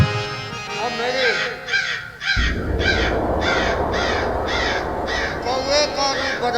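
A crow caws again and again in a rhythmic series of harsh calls, loud and close, layered over a noisy background during a devotional Ramayana scene.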